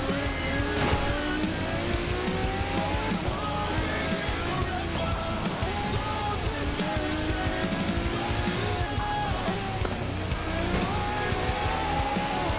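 Maserati MC12 race car engine roars continuously in a racing video game, rising and falling through gear changes at high revs, loud and steady throughout with no talking.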